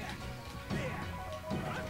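Forward smash attacks in Super Smash Bros land as two clear impact hits about 0.8 seconds apart, over steady game audio and background music.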